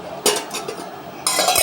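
Steel cooking pots knock together in a few close, bright metallic clinks, followed by a longer scraping clatter at the end.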